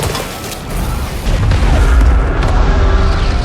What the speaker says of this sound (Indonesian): membuat suatu ledakan yang tak terhindarkan